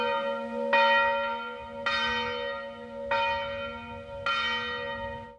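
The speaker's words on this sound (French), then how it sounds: "les cloches de l'église sonnent de 7h du matin à 10h le soir" Church bells ring in the French village of Gajac, four evenly spaced bright strikes, each leaving a long sustained ringing tone that decays slowly, clear and alone with no voices.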